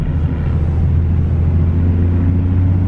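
A 2011 Ford Mustang with the 3.7 V6 idles with a low, steady exhaust drone, loud and close with a constant rumble and no talk.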